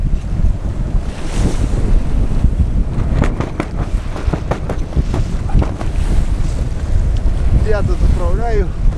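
A sailing yacht heels hard in strong wind, with heavy wind buffeting the microphone and water splashing and rushing along the hull, loud and close throughout, with bursts of spray and a brief whistling tone near the end.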